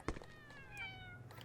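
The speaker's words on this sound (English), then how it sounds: "Oh, they're kitties!" Kittens in the video game Thirty Flights of Loving give a couple of soft, high meows, quiet and close, with no talking.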